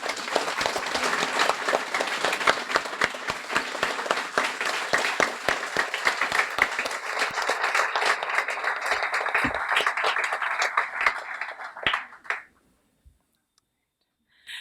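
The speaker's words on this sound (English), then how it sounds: "I'd like to give everybody a well-deserved round of applause, so please stand." Audience claps for standing volunteers at a guide dog school graduation ceremony, a sustained round of distinct hand claps with some loud close ones, tapering off after about twelve seconds into near silence.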